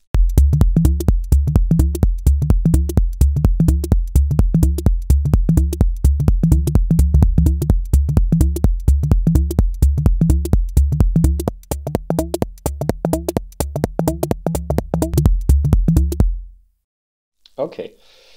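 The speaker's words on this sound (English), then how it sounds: "it's about creating a classic minimal techno pattern on the Arturia Drumbrute" Arturia Drumbrute drum machine playing a classic minimal techno pattern: a loud, steady four-on-the-floor kick with ticking hats and snappy percussion repeating in a tight loop, then stopping abruptly near the end.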